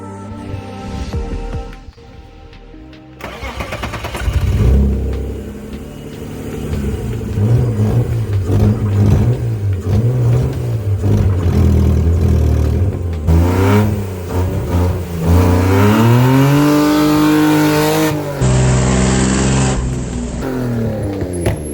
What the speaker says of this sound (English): Should just drive right out of it